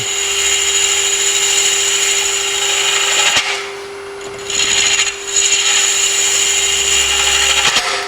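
A boring bit hollowing the inside of a twisted wooden hollow form on a lathe: a steady, loud grinding rub with a constant tonal hum, briefly easing twice as the cut pauses, then resuming.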